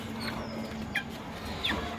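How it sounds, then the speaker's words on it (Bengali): Young chicks cheeping shrilly in a cage, a few short high peeps spaced out over steady background noise, fairly faint and without speech. "মুরগির বাচ্চা চিল্লাচ্ছিল"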